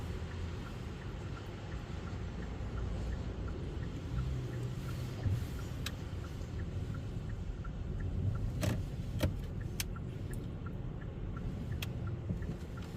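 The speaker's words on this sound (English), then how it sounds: "I'll wait until the cars have passed." Cars pass by on a narrow road, heard as a steady wash of engine and tyre noise with a few sharp clicks and rattles near the middle, with no talking.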